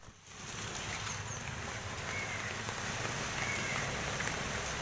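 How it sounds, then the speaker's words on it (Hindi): Light rain falls steadily in the Kandivali area of Mumbai, a continuous even hiss of drops on surfaces that holds at a constant level throughout with no voices. "बारिश फिलहाल अभी बहुत धीमी हो गई है कांदिवली इलाके में"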